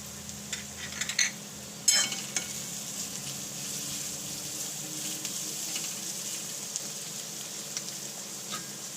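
Capsicum peppers stuffed with filling fry with browned onions in a pan, a steady close sizzle running throughout with a few sharp clatters of a utensil near the start.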